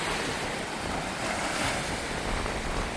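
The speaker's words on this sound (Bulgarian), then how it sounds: "Духа много приятен ветрец." A breeze blows by the sea on a coast in Puglia, a loud, steady rush of wind buffeting the microphone over the wash of waves, continuous throughout with no speech.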